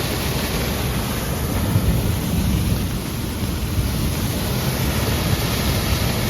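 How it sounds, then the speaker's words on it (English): A waterfall running with unusually heavy flow through a drainage outlet on cleared land pours as a dense, continuous broadband roar, loud and close, steady throughout with no voices. "the waterfall has so much water coming through it"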